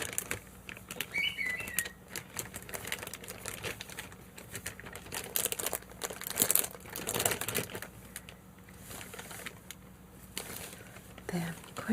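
Dried leaves being handled, crisp crinkling and rustling bursts coming and going over several seconds, close by, with faint voices in the background.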